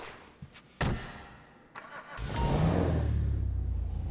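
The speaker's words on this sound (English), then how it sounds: "Let me just get in and start it up." In GTA 5 Online, a few clicks and thumps, then a car engine cranks and catches, settling into a loud, throaty idle with a deep rumbling exhaust.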